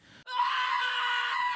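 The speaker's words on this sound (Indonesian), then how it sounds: "Ryu menjerit kesakitan sambil memegang matanya" A man screams in pain, one loud sustained cry close by that holds steady for over a second, then cuts off.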